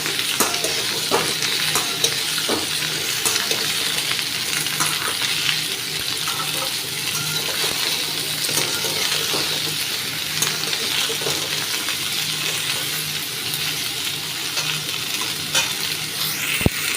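Pumpkin and potato pieces fry in a pan with a dense, even sizzle, punctuated by scraping stirs and small metallic clinks close by.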